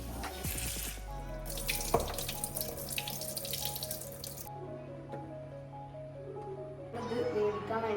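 Tap water runs steadily into a sink while carrots are rinsed and handled, with splashing bursts and a soft voice murmuring in the background.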